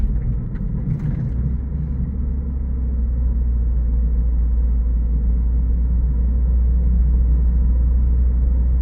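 A steady low engine rumble from inside a moving 2024 Lexus IS 350 F Sport on a test drive, smooth and constant, with road noise and no talking.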